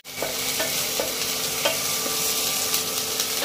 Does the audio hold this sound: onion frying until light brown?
yes